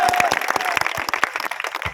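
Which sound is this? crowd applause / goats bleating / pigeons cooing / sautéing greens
crowd applause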